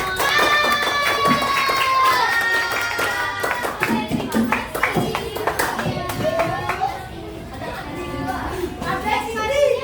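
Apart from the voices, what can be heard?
class applauding a student group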